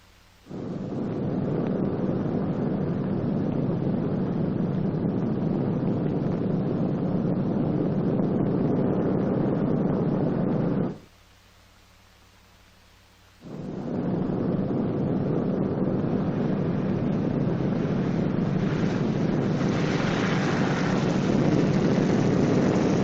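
A B-29 bomber landing roars loudly and steadily with its heavy propeller engines, with a brief drop to near silence midway before the deep engine rumble returns.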